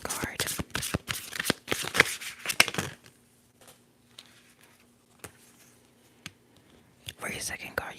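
Tarot cards are shuffled up close in a quiet ASMR setting, a dense flurry of papery riffles for about three seconds, then a few soft isolated taps before the shuffling starts again, with faint whispering.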